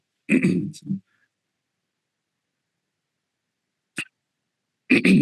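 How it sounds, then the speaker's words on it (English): A person clears their throat with a rough, gravelly rasp, followed by silence and a few brief mouth noises. "apparently I need to clear my throat with coffee to talk about coffee."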